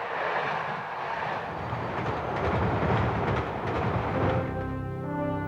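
A train rumbles loudly along the rails with a heavy, continuous roar, and high steady tones like squealing brakes or a horn rise near the end.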